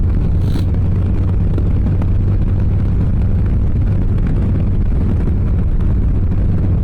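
A 2023 Harley-Davidson Low Rider S with a Westport exhaust cruises down the freeway. Its deep engine rumble blends with heavy wind roar in a loud, unbroken drone throughout.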